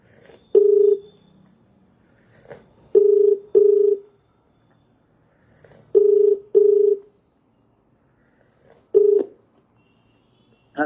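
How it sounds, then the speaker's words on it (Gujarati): A telephone call on hold plays a ringback tone: short steady beeps, mostly in close pairs, separated by quiet gaps and repeating several times. The tone is clear and alone, with no talk. "ચાલુ રાખજો ફોન, એ હોલ્ડ પર મૂકી દેશે"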